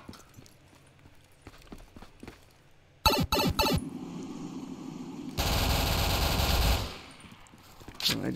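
Gunfire from the Block Plaza zombies mode of a Mario Kart video game: a rapid, loud burst of shots is followed by a longer stretch of dense, noisy firing, with faint game sounds before it.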